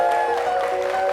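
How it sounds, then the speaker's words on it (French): Brief burst of studio audience applause on a TV show, a steady clatter of clapping mixed with a held musical tone, lasting about a second. "Ça s'applaudit encore"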